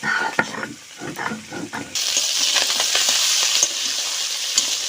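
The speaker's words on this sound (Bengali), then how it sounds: "মাছগুলো কড়াইতে দিয়েছি। মাছটা ভাজার পাশাপাশি আমি শুকনো মরিচ বেছে নেব।" Small fish sliding into hot oil in a wok for a water lily and fish recipe, with a few light clatters first, then a sudden loud, steady sizzle that keeps bubbling close by.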